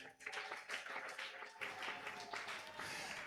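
A church congregation at a Pentecost service claps for Jesus, a dense, continuous patter of many hands heard at moderate distance, with voices mixed faintly underneath.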